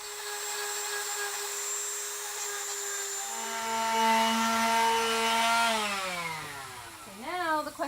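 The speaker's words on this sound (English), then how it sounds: "I'm just going to clean these holes up a little bit with my Dremel." A Dremel rotary tool whines steadily while cleaning up small holes drilled in a wooden yard Christmas tree, its pitch dipping partway through and falling sharply as it winds down near the end.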